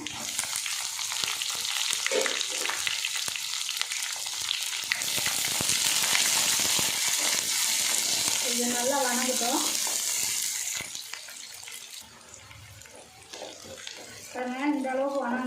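Small shallots drop into hot oil for a bitter gourd kuzhambu, setting off a loud, sustained sizzle that fades after several seconds, with a voice talking briefly over and after it.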